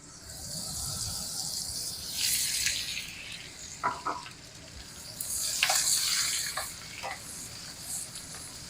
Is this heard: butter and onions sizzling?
yes